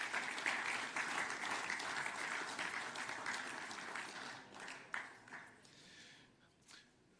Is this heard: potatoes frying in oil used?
no